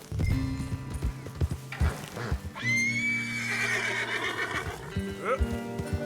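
A horse in Red Dead Redemption 2 lets out a long, loud whinny while hooves clip-clop at a gallop, with a rider's short spoken commands over the top.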